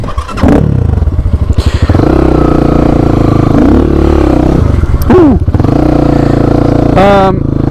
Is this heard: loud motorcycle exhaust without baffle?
yes